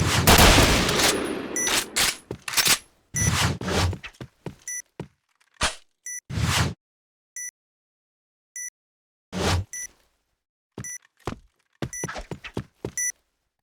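Gunfire in an online first-person shooter match, sharp loud bursts and single shots in irregular clusters separated by silences, with short electronic beeps between.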